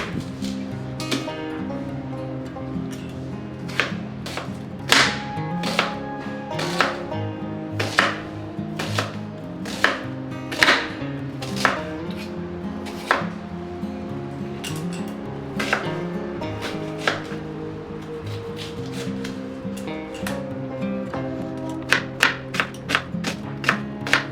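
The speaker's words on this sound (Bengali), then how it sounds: "পেঁয়াজটা এখন সুন্দরভাবে ঝিরিঝিরি করে কেটে নেবো" A knife finely slicing onion on a board for chicken kosha, with steady rapid chops broken by short pauses and sharp close taps, alone with no talk.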